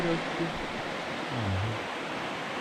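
Water of a salmon-type river with a stony, gravel bed rushes steadily over an artificial rock ramp, a constant broadband wash close by, with a voice speaking over it.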